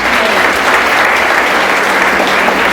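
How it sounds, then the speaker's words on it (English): Dense, steady applause from an audience at a live fortune-telling act, loud and close, filling the whole moment with no break in the clapping. "Give her a big round of applause."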